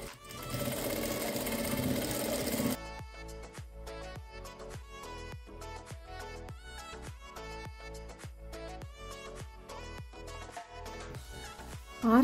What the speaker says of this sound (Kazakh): 1 сантиметр қашықтықта тігіс түсіреміз.